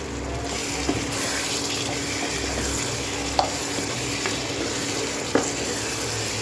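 Meat with green chillies sizzling and frying steadily in a pan for kosha, an even hiss throughout, broken by a few sharp clinks of a spatula against the metal.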